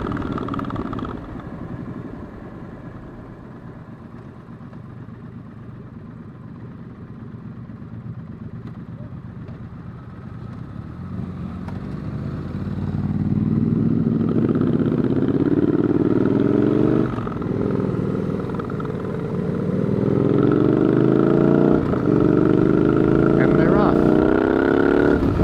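A 900cc motorcycle rides Milford Road, its engine droning steadily under heavy wind rush that grows louder partway through, with the pitch rising and falling as the bike accelerates.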